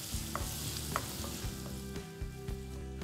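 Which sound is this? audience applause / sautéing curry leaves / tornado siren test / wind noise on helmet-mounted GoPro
sautéing curry leaves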